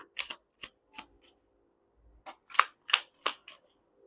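Tarot cards shuffled and pulled by hand during a collective card reading, heard as a series of quick, soft riffling flicks and snaps spread irregularly across a quiet room, close and fairly faint.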